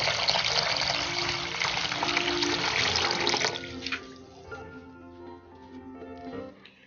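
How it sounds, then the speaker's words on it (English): Water pours steadily into a bowl in a kitchen, a loud gushing splash that runs for a few seconds, then stops and leaves faint drips and light clinks. "add some water into your bowl and place them in the refrigerator"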